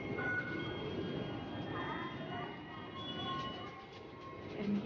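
Steady rumble and rattle inside a moving MTR passenger train in Hong Kong, a constant low roar with faint squeaks and murmuring voices in the background.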